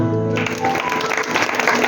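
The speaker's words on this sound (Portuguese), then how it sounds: "Aplauda o Senhor." A church congregation breaks into applause, a dense, loud wash of clapping that rises right after a sustained musical tone and voice fade out.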